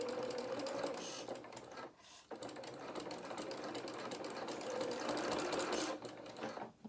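A home sewing machine stitches a fur collar on a small winter skating coat, whirring steadily and close for several seconds with one short pause, with no voices.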